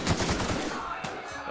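Rapid gunfire bursts in the sci-fi video game The Outer Worlds, a short loud rattle of shots that fades off quickly.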